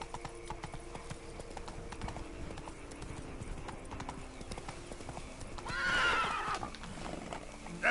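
Hooves of the horse Roach clip-clop steadily along in the video game Witcher 3, with a brief neigh near the end, all fairly quiet and heard alone.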